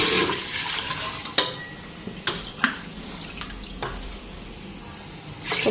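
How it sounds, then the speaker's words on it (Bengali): Water poured into a rice cooking pot (handi) in a home kitchen, a steady splashing stream with a few sharper clinks and splashes, alone without talk. "জল দিয়া দিই হাঁড়িতে"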